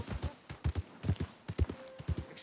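Horse hooves clip-clopping in the video game Red Dead Redemption 2, a steady walking rhythm of paired hoofbeats, close and moderately loud, with no talk.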